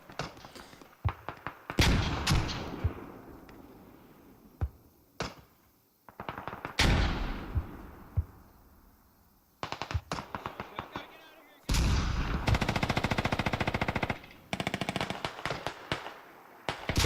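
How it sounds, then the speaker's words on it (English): A 30 mm cannon on a BTR fires in a tactical shooter match, with sharp, loud reports coming singly and in fast, sustained bursts, echoing against a quiet background under occasional commentary. "30 mil BTR is firing right into the smoke."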